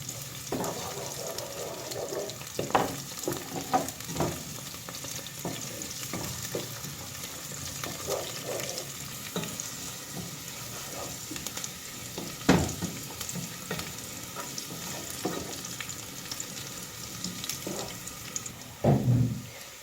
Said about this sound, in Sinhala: පොඩි ගොරක කෑල්ලකුයි ඒක දාලා හොඳට ටිකක් මම බැඳ ගන්නවා